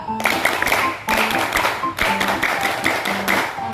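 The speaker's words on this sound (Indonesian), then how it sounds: "coba bantu saya dulu supaya semangat tepuk pramuka" Students at a junior high school in Palu perform the rhythmic Indonesian scout clap, tepuk pramuka, as a crowd: bursts of sharp hand claps in a set pattern, repeating in roughly one-second phrases, loud and close with faint voices mixed in.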